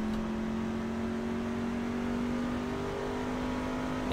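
NASCAR stock car engine in the iRacing sim, Class C Fixed race at Kentucky, droning steadily and loud with a sustained, slightly rising tone, no talk over it.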